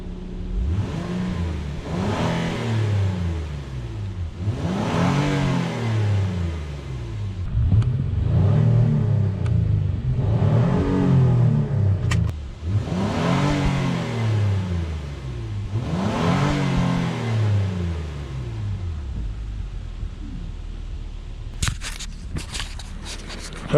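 Acura MDX 3.5 liter V6 revved repeatedly from outside at the exhaust, about six rising and falling blips in a steady rhythm, loud and close, with no talking.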